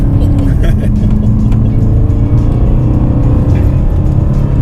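A BMW M3 E92 with the DKG dual-clutch gearbox and a milder stock exhaust drones steadily and close while driving, a continuous low engine note running under ongoing conversation.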